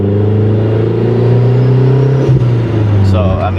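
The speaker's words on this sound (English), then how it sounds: "it's a pretty smooth exhaust." A Mazdaspeed3 drives with its aftermarket exhaust giving a loud, smooth, steady low drone, heard from inside the car with the windows down, alongside wind and road rumble. A person talks over it.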